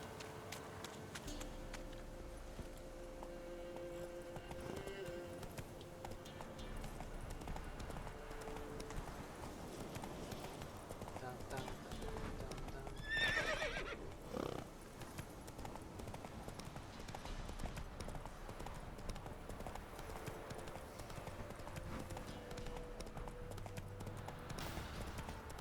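Horse hooves clip-clop steadily throughout in The Witcher 3, an even rhythmic patter under a constant game music and ambience bed, with a brief louder flurry midway.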